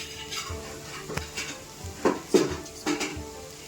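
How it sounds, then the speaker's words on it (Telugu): Soft sizzling with a few sharp metallic scrapes and clinks of a utensil stirring in a pan, close up, no talking. "ఇలా ఏ వాటర్ వేయకుండా ఫ్రై చేసుకోండి"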